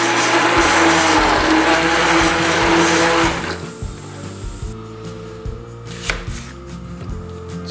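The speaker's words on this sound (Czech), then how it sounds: "Cibuli si nakrájíme na dosti hrubé kusy." A knife cuts onion into coarse pieces on a board with repeated close thuds; for the first three seconds a blender drone runs loud over the chopping, then the knife strikes continue alone and quieter.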